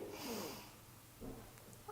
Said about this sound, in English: So taking a breath in,